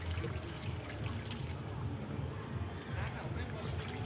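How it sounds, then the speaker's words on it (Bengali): Water flowing steadily from a sensor-activated tap, a continuous trickling splash that runs on without a break, heard under faint background noise. "দেখো জল পড়তেই থাকবে, পড়তেই থাকবে, এটা এটা পড়তেই থাকবে"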